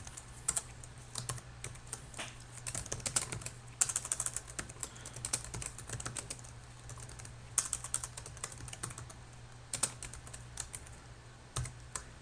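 Quiet typing on a computer keyboard while writing code, with irregular clusters of soft key clicks and a few sharper taps over a low steady hum.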